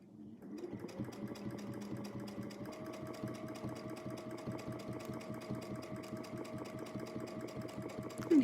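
A sewing machine doing free-motion quilting runs steadily at close range with a fast, even mechanical stitching rhythm and a faint hum. It starts up at the beginning and keeps going without pause.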